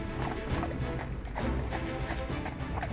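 Horses driven hard on a long road journey to London, their hooves clip-clopping in a steady, rapid rhythm with an occasional whinny, loud and continuous with no talking.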